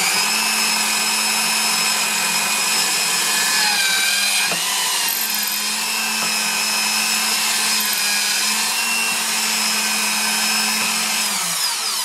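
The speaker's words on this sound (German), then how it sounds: "Bohrständer." An electric drill mounted in a drill stand, used while fitting a TV wall mount, runs at a steady, loud, continuous whine for the whole stretch with a low hum beneath.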